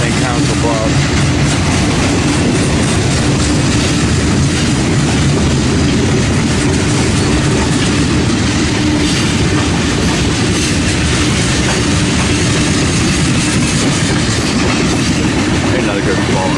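A freight train rolls past heading east on the Omaha Fremont division, a loud, steady rumble of railcars with continuous clickety-clack and faint wheel squeal, close by and unbroken for the whole stretch.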